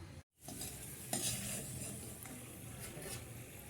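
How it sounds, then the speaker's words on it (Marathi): Raisins frying in ghee for a sweet makhana dish, a soft continuous sizzle with light stirring after a brief dropout near the start. "मनुके तळून घ्यायचे. ते फुगले की साईडला काढायचे."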